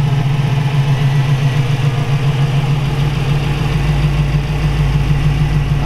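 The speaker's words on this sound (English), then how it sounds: "Okay, we'll reach in and fire it up here. Starts right up." A 1961 Chevy Corvette convertible with a fuel-injected LS2 V8 idles steadily after starting, a loud, close, even low rumble with no talk over it.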